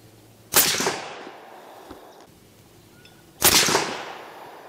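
Two loud rifle shots from a Ruger American in 7mm PRC firing ELD-X ammunition, about three seconds apart, each a sharp close blast followed by a decaying echo, with no talking.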